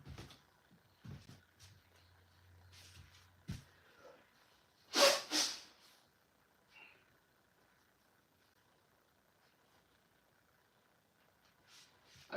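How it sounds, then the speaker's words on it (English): A single sharp sneeze bursts out of a quiet room, followed by a second smaller burst and soft breathing noises. "I felt that sneeze coming."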